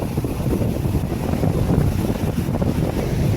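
Rough seawater heaves and surges around boats, a loud continuous wash of waves under heavy wind rumble that batters the microphone throughout, no speech present.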